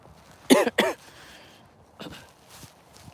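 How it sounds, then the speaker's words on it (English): A man coughs twice in quick, harsh bursts from a lingering cough after a cold, then gives a softer cough a moment later, close by in a quiet outdoor spot beside a railway line. "I've got the stupid cough that's been lingering the last handful of days"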